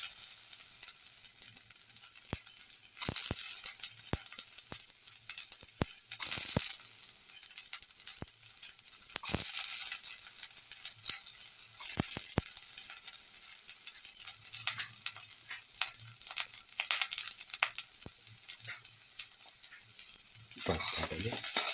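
Shallots fry in a pan with a steady, crackling sizzle throughout, broken by occasional sharp clicks and scrapes of stirring.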